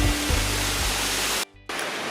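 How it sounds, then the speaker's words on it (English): A small, pretty waterfall fed by a river roars steadily nearby as a dense, even wash of falling water, with a brief dropout near the end. "which leads out onto a lovely waterfall"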